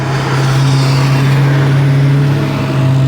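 A Mustang accelerates close by, its engine holding a loud, steady droning note with a strong low hum and road roar throughout, without a clear rising rev.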